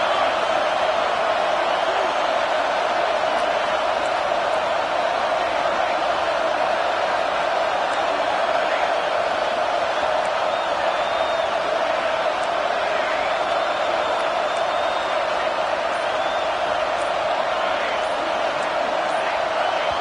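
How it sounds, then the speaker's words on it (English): Steady, dense roar of a stadium crowd at a college football game, continuous and loud for the full twenty seconds with no clear peaks, like distant massed cheering and chatter. "Listen to the crowd energy here in the early going."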